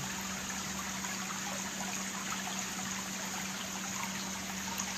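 Water flows and trickles continuously at a botanical garden, a steady, fairly quiet wash with an even, unbroken texture and a faint underlying hum.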